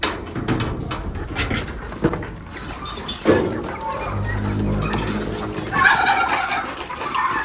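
Hungry chickens and other poultry cluck and call loudly at a home feeding time, with gobbling fowl, scattered clatters of feed containers, and a person speaking now and then among the birds.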